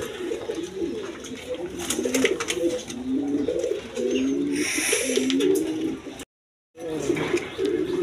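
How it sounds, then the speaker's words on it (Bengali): Snake-eyed red Rajgolla pigeons coo steadily in a series of low, throaty, rolling calls at close range, with faint background noise and a brief dropout near the end. "দোনোটাই সাপ চোখের কবুতর।"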